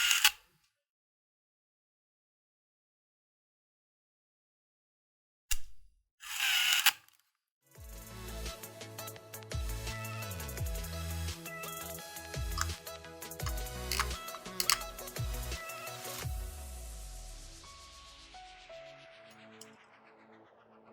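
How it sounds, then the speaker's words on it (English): An old Yashica MD-35F film camera's shutter gives brief mechanical clicks amid silence, followed by a longer run of whirring, ratcheting mechanism noise up close. "this is where the shutter opens and closes to capture the image on the film"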